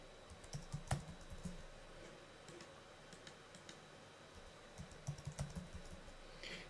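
Computer keyboard typing in short quiet bursts of rapid key clicks, close and faint, with pauses between the flurries.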